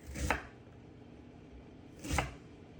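A knife cuts fennel into thick slices on a board: two separate, crisp chops about two seconds apart, quiet and close, with near silence between them.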